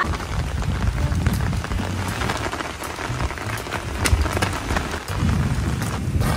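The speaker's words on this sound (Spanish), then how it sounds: "¿Cómo tú no te mojaste si está lloviendo?" Steady rain falling and pattering on surfaces, a dense even wash of drops with faint low rumbling underneath, continuous and fairly close, no voices.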